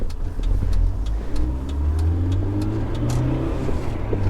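BMW E30 M3 with a small engine accelerating in third gear, a steady low engine drone rising gradually from inside the car, with faint periodic ticking over the top.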